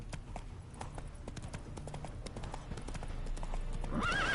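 Roach, a horse in The Witcher 3, trots with steady clip-clop hoofbeats under a low ambient bed, then lets out a short whinny near the end.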